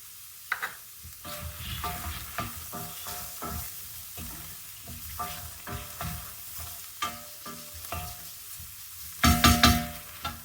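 Fennel seeds hit hot oil in a pan and sizzle while a spoon stirs them, giving repeated close scraping strokes over a constant frying hiss that swells into a louder sizzle near the end.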